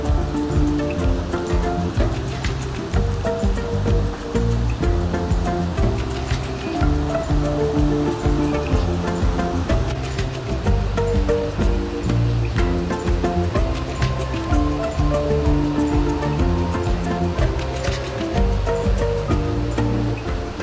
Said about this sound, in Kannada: ಬಂತು ಜಲಪಾತ